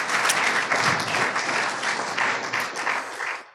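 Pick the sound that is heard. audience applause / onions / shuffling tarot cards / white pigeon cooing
audience applause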